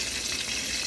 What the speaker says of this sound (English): We're gonna fry it in half butter, half oil.